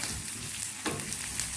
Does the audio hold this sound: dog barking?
no